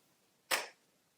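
One sharp hand clap, close and crisp, sounds alone in a quiet room with a brief decay.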